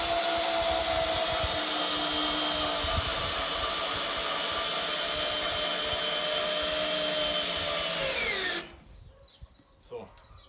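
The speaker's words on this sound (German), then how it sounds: "Dann mache ich jetzt hier auch meine Schrauben rein." A power drill drives screws into the wooden frame of a porch, with a continuous loud motor whine that slowly drops in pitch and then stops abruptly near the end, leaving a few faint knocks.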